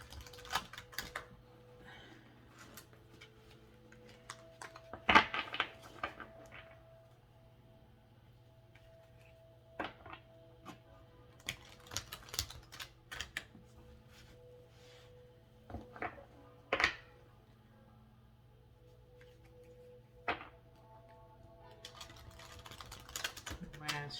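A deck of tarot cards is shuffled in short, crisp riffling bursts separated by quiet pauses, with a few sharper taps and clicks mixed in, close and fairly soft.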